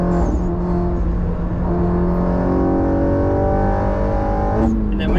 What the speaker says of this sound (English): We're in the rev limiter.